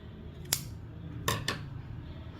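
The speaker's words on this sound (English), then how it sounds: "then you cut off the excess yarn" Scissors snipping off excess yarn from a crochet waffle stitch sweater dress: one crisp snip, then two quick cuts a moment later, close and quiet, with no speech.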